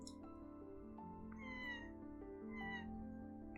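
A thin whistling squeak from a person's nose, a few short rising and falling tones that sound almost like a faint meow, quiet and close over low background hum.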